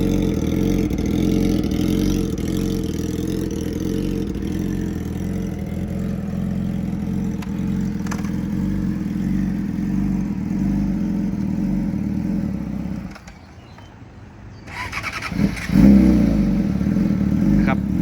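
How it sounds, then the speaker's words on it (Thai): A Yamaha R6 sport motorcycle engine idles with a steady, low throbbing rumble for most of the stretch, briefly dropping away before a short rev returns near the end. "ได้ฟังเสียงครับ เสียงเครื่องยนต์ ตอนนิ่งนะครับ"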